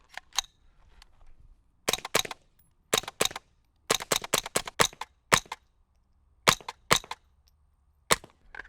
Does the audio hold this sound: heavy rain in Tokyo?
no